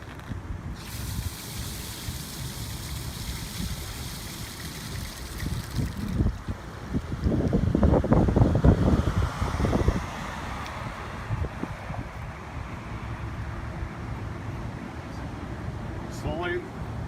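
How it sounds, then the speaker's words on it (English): A fire hydrant depressurizing through its click valve gives off a steady high hiss that starts abruptly and cuts off after several seconds, while someone talks over a windy, rushing background. "Slowly open the click valve, and you can hear the hydrant. What it's trying to do is depressurize."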